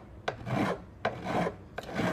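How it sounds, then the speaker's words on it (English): A metal file rasps across guitar frets in three separate strokes, each starting with a sharp bite and then a drawn-out scraping pass, close and fairly quiet, with no talking. "I'm using a smaller file because we're down low."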